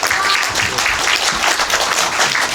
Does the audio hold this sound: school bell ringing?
no